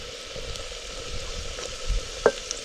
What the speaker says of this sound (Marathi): आपल्याला कांदा चांगला परतला ते कढीपत्ता टाकून घेऊ